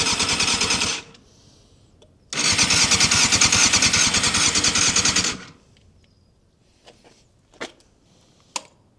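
A Yamaha Thundercat motorcycle engine, sitting unused for 13 years, cranks loudly in two long rapid churning bursts with a pause between them, then goes quiet except for a few sharp clicks.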